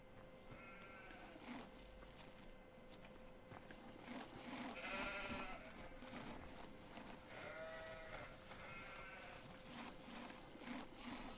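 Several sheep in the video game Farming Simulator 15 bleat in short wavering calls scattered across the clip, over a steady low farmyard ambience with a faint constant hum.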